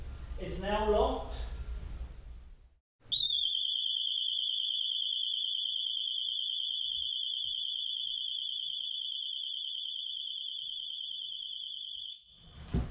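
A home security alarm blares inside a house after a door is forced, holding one piercing steady tone for about nine seconds before cutting off; a voice speaks briefly before it starts.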